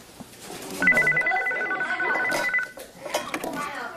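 A telephone rings nearby with a sustained electronic trill lasting a couple of seconds while people talk over and around it.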